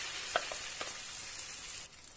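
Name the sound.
potato omelette frying in hot oil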